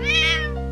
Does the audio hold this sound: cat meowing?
yes